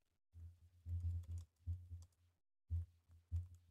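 Keystrokes on a computer keyboard come in short bursts of clicks, several quick clusters separated by brief pauses, close and fairly quiet with no talk over them.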